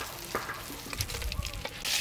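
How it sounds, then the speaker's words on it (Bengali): Fresh freshwater giant prawns fry in a pan with a steady, close sizzle and crackle, light stirring scrapes and clinks breaking through now and then. "সব কটা মাছ ভালো করে ভেজে নেওয়া হয়েছে"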